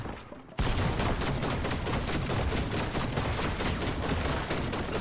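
Mythic gun in Fortnite firing in a loud, sustained rapid burst after a brief quiet start, dense repeated shots continuing to the end without talk.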